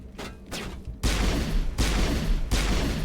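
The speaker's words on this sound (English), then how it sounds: "I think that was a headshot with my pistol." Pistol fire in the video game Mass Effect: Legendary Edition, with three loud, sharp shots at an even pace over a quieter rumbling game background.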